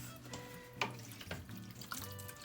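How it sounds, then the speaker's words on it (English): Chicken broth pours into a pot of turkey chili in a community kitchen, a steady trickling liquid stream running close by throughout. "so that's where I'm gonna put my chicken broth"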